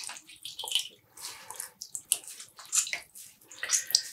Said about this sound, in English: I'm just going to squeeze out the water.